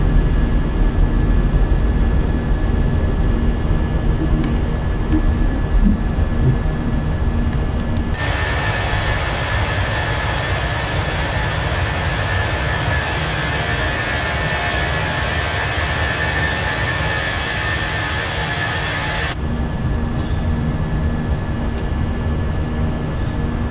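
Fenix A320 airliner with IAE engines climbing out of Vancouver in a flight simulator: a steady, loud broadband engine roar that swells into a fuller, brighter rush partway through, then eases back, with no talking.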